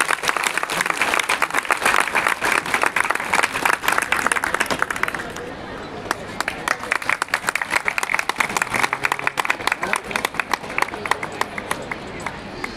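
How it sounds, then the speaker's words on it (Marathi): Loud, sustained audience applause at a stage felicitation, where a legislator receives a shawl, coconut and memento during a Shiv puja gathering in Amravati; dense clapping fills the whole stretch, easing briefly midway before picking up again. "एक मोमेंट जोरदार टाळ्या व्हायला पाहिजे।"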